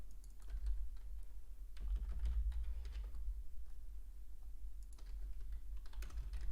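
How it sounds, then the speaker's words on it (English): Computer keyboard typing during a live day-trading session, faint scattered key clicks in short bursts over a low background hum, with no speech. "If you do hear typing, that's just me making alerts"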